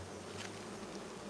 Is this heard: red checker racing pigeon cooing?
no